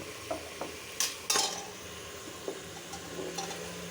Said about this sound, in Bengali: মশলাটা কষানো হলে লাউ দিয়ে দিব এখন লাউগুলো দিয়ে দিব